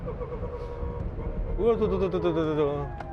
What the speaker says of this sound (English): It sounds a bit like the gear whine in a rally car.